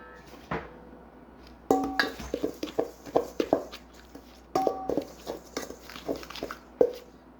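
Peach crisp ingredients being mixed in a bowl: a run of irregular clinks and scrapes of utensil against dish, close and moderately loud, in two bursts with a quiet pause between.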